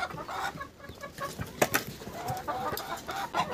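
A deshi hen with a deep red-brown comb and mixed brown and black feathers clucks in scattered short calls, close by in a village yard with light background noise.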